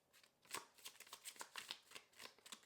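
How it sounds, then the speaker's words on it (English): Rapid riffling of a deck of tarot cards being shuffled, a quick run of crisp papery flutters, fairly quiet and close, with no talking. "One more shuffle"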